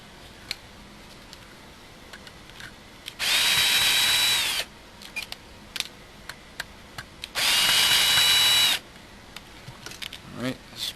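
A power drill backs screws out of a vintage Kyosho Lazer ZX-S RC car. Two whirring bursts of a few seconds each run close and loud, separated by small clicks and handling noises.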